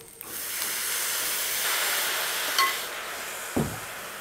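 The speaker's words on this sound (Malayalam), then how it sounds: "ഒരല്പം വെള്ളം നമ്മളതിൻ്റെ അകത്ത് ഒഴിക്കുക" Water poured into a hot pan of cracked wheat upma, a sharp burst of loud steam hissing that holds steadily for several seconds, with a couple of brief clinks near the end.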